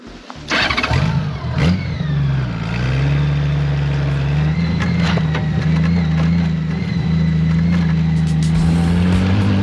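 A Honda Goldwing motorcycle riding two-up along off-road wilderness trails in Idaho and Montana, its engine holding a steady, loud cruising drone with a brief surge early on, heard alone without talk.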